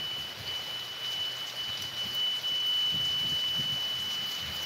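Rain falls on a boat in a constant close wash of patter, with a thin steady high whine running underneath throughout.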